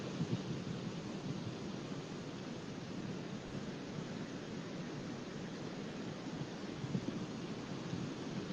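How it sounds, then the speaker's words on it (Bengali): Rain falls steadily near the Kaptai dam in Bangladesh as an even, dense hiss at moderate distance, with no voices and no distinct drops. "এদিকে কিন্তু বৃষ্টি হচ্ছে"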